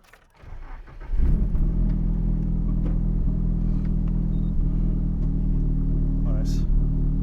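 A Nissan S13 S-chassis drift car, heard from inside the cabin, cranks and fires up, then settles into a loud, rough, low idle with a few small blips of revving, steady after the start.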